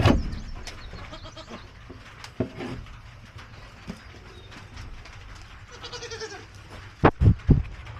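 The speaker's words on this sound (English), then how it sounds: "They are getting to be very friendly goats." Several goats bleat close by, with a cluster of sharp calls near the end over a steady outdoor background hum.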